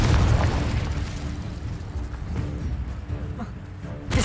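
Spell effects from Incendio and Confringo cast in the Hogwarts Legacy game, a fiery burst and an explosive blast, rumbling loud and low at the start and fading into a sustained roar with a sharp pop at the end.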